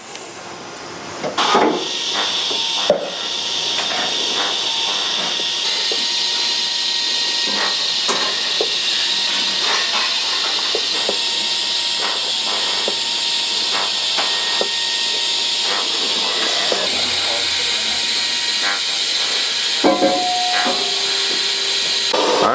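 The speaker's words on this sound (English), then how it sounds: "So you're starting to actually do some TIG welding now?" A TIG welding torch hisses steadily and continuously in a custom fabrication shop, with a few faint clicks and knocks from the workspace rising over the constant high hiss.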